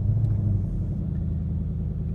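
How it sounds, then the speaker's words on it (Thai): A new Ford Mustang engine idles nearby in a deep, steady low rumble with slight throb, loud and continuous with no speech over it. "เดี๋ยวลองสตาร์ทเครื่องให้ดูนะครับ"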